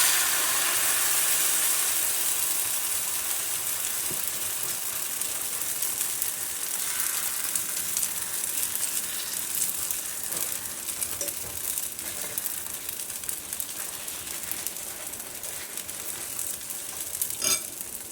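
Ghavan batter sizzling on a hot oiled pan with onion-spread oil, a steady faint hiss and crackle of frying that starts stronger and settles into a continuous quieter sizzle, no talk.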